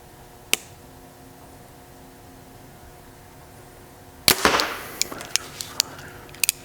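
Two compound bows, a Mathews VXR 28 and a Prime Black 1, loose arrows with sharp snapping releases. One crisp shot rings out early, then a louder release with a burst of rustle, followed by several scattered clicks and ticks.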